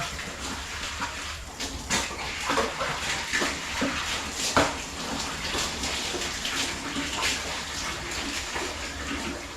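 Weak trickle of water from a tap while laundry is being washed, a continuous running splash with irregular louder sloshes and knocks of clothes being handled.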